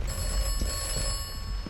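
A telephone rings in the Atomfall game as a steady, continuous electronic bell tone that holds over a low rumbling ambience, with a few soft thumps underneath.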